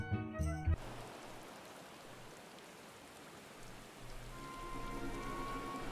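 Steady hiss of rain falling in the video game Final Fantasy XIV, soft and continuous after a short burst of tonal game sound at the start, with faint musical tones rising in the background near the end.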